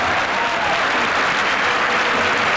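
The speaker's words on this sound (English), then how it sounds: "they'll applaud almost anything he does now" A crowd applauds Celta footballer Amarildo during a 1988-89 Primera División match against Real Madrid, producing a steady wash of stadium clapping and crowd noise that stays even throughout.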